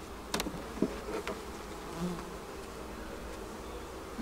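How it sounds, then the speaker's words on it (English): Honey bees hum softly around nectar in an opened hive frame, a low, quiet buzz with a few brief closer passes and no voices. "It's an awful lot of quiet bees gathered around nectar."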